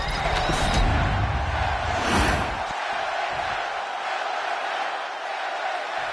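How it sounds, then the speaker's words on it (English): A large crowd roars at a live wrestling event, a broad sustained swell that stays loud throughout, with a stronger surge early on before it settles into a steady din. "the roar of the crowd tells you all you need to know"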